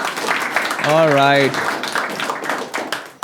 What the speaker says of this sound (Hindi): ताली बजाओ चित्रेश के लिए